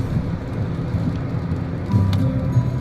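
Light rain during a day out, a steady soft hiss of drops close by, with a low rumble underneath and a few sharper patters near the end.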